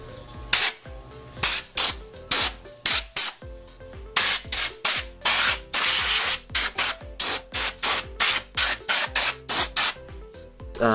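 Short bursts of aerosol spray hiss in a quick repeated rhythm while a dirty Mio Sporty carburetor is cleaned, close and loud, with a longer continuous burst in the middle and no talking.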